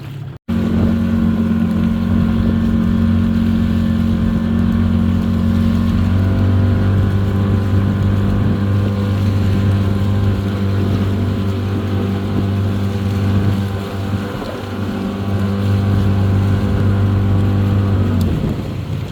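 Outboard motor on a small boat running steadily near a Philippine beach, a loud continuous droning hum with shifting engine pitch and wind buffeting the microphone throughout.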